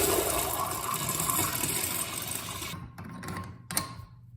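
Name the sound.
Sloan urinal flush valve flushing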